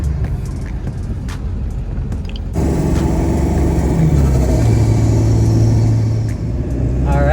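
A 7.3 Powerstroke diesel truck with its stock turbo, heard from inside with a low cabin drone that jumps to a louder steady rumble as it accelerates hard, engine note climbing in a long sustained pull.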